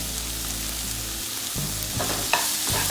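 Chicken tahari with chopped green chilies is stirred in a hot pan, a steady close sizzle and frying hiss with scraping spoon strokes on the pan, and no voice.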